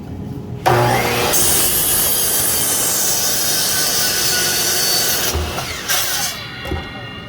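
A power saw cuts a wooden block to about five inches long in a workshop with dust collection, starting with a jolt, then a loud continuous rasping cut for several seconds before winding down.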